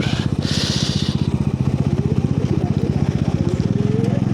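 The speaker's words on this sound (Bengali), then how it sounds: "এটা 250 সিসির একটা ডমিনার বাইক" A Bajaj Dominar 250cc motorcycle being ridden, its engine thrumming loud and close with a steady rapid pulse and rising revs, while a voice talks under the engine noise.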